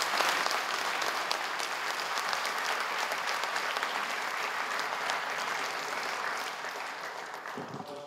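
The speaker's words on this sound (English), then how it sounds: "Please welcome him to the stage with a round of applause." Sustained applause from a large lecture-hall audience at IIT Bombay welcoming a speaker to the stage, steady and dense throughout, tapering slightly at the end.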